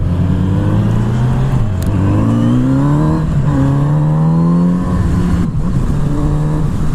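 A Kawasaki Z900RS motorcycle with an Akrapovic exhaust accelerates hard in fifth gear, its fuel-injected four-cylinder engine rising in a loud, steady, close-up drone with a brief dip partway through before pulling on.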